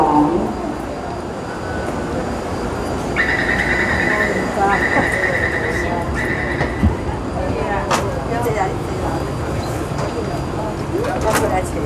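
A train pulls in at a station platform amid a steady rumble and wheel noise, with bright squealing tones rising partway through; platform announcements and nearby chatter run over it throughout.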